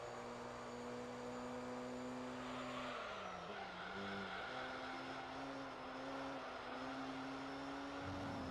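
Dodge Viper drifting in Gran Turismo 3, a steady engine drone with tire squeal rising and sliding around the middle of the run, loud and continuous with no talk.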